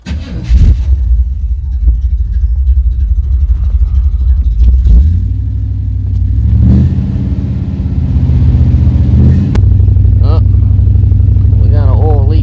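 A 1986 Chevrolet Suburban dually engine cranks, catches, and settles into a loud, steady idle, with a couple of revs and a person talking over the running engine.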